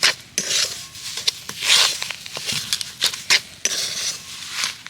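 A semolina and palm mixture is stirred slowly in a pan over low heat, with a utensil scraping and clinking against the pan in a steady, close, fairly loud rhythm.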